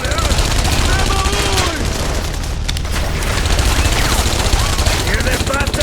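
Rapid gunfire and booming shots rattle through a dense battle scene in the video game The Saboteur, loud and continuous, with shouting voices mixed into the fray.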